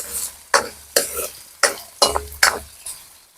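Potatoes frying in a pan are stirred in about six quick, loud scraping strokes, each a short bright rasp with clear gaps between them, over a faint sizzle.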